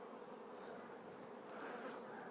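Honey bees inside a beehive make a dense, steady buzzing drone, faint and continuous without pause.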